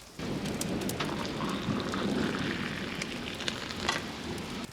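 Steady rain falling in a garden, a dense even hiss of drops with occasional louder splats nearby, continuous and fairly soft with no voices.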